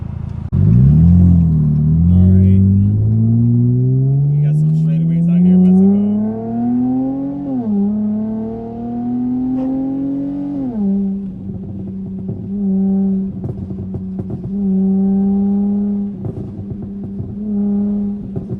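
A tuned Dodge Charger SXT with a burbling exhaust pulls hard on a back road, its engine note rising steadily through a gear, dropping at a shift around midway, then climbing again before settling into a loud, steady drone with crackles near the end.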